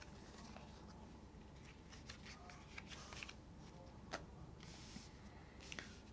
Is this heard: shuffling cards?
yes